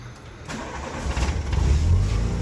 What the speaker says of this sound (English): Hopefully the car will start because I think it is missing a spark.